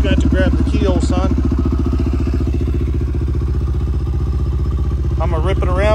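A Honda 400EX ATV engine, freshly rebuilt with a 400cc big bore kit, runs steadily with a loud, close, throbbing idle and mechanical clatter, while someone talks over it at the start and end.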